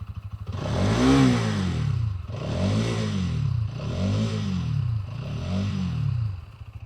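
A 2023 Bajaj Pulsar NS200 motorcycle engine blips up to mid revs four times in a row, each rise swelling and falling back, close and loud with no talk.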